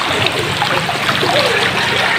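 Steady river water rushing, splashing and trickling over rocks beneath a road bridge, loud and close, continuous with no pauses.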